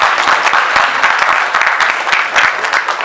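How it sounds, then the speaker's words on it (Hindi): Loud, dense applause from a theatre audience for the cast after a stage play, steady continuous clapping for a few seconds with no voices over it. "जोरदार तालियां"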